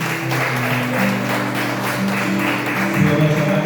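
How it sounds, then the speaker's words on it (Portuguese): A congregation applauds loudly at an evening worship service held in a garage, steady dense clapping over sustained music chords. "Queremos aplaudir se bem forte no nome de Jesus."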